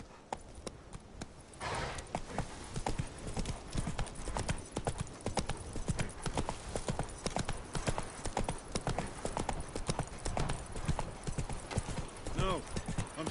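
Hooves of a horse in The Witcher 3 video game beat out a rapid, rhythmic galloping clip-clop that carries on steadily after a brief start, with a voice faintly heard at moments.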